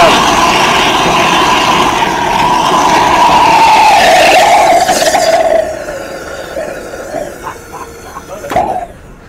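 A recreated Apollo 11 rocket engine lift-off, staged as a demonstration, gives a loud continuous roaring rumble with a rising whine that holds for about five seconds before fading into quieter, uneven noise.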